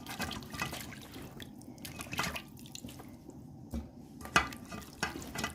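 Smoked fish being washed by hand in hot and then cold water, soft sloshing, dripping and trickling splashes in an irregular rhythm, fairly quiet and close with no talking.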